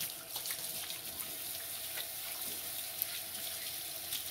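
Running tap water splashes steadily into a kitchen sink while hands are washed with soap before seasoning chicken, a continuous close hiss with small splashy shifts and no talking.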